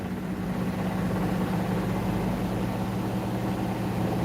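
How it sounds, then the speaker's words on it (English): A household washing machine runs with a constant low hum and a broad, even whooshing drone that holds steady the whole time, with no talking. "It's the sound of my washing machine."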